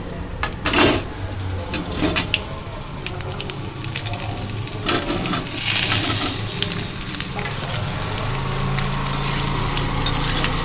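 Cut raw mango pieces are stirred in a pan with fried bay leaves, black cumin and fennel for pickle, a hissing sizzle with a few clattering spoon knocks early on, then a steadier, softer frying hiss, close and without talk.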